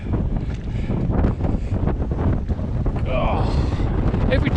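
Gale-force wind at Willinghurst Lake buffeting the microphone in a constant low rumble with gusty surges, while someone talks intermittently over it.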